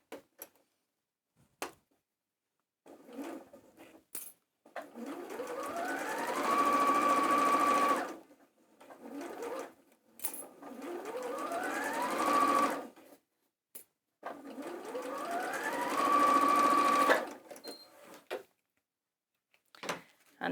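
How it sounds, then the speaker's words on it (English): A sewing machine stitches a quarter-inch seam in three separate runs, each a steady close whir that speeds up and holds for a few seconds, with quiet handling clicks and fabric rustles between runs. "we're going to sew along that seam here, again using your 1/4 inch seam allowance."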